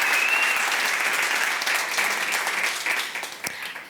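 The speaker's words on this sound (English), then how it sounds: "Another round of applause for our panelists" An audience at a hall of fame induction event gives the panelists a warm round of applause, dense and even at first, then thinning toward the end with a few separate claps.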